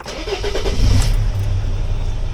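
A 2006 Sprinter T1N van's engine starts up close and loud, cranking into a steady low rumble that holds through to the end with no voices.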